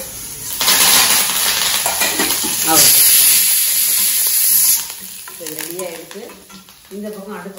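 Curry leaves sizzle and crackle in hot frying oil on a stove while lentils are fried for a tempering, a loud close spattering hiss that eases off partway through, with a few short vocal sounds near the end.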